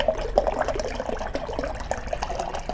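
Juice pours into a large glass in a continuous, splashy fill with small gurgles, close by and fairly quiet, without talk.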